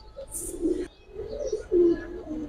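High flyer pigeons coo in a few low, rolling phrases, close by and fairly clear, with a brief higher chirp early on.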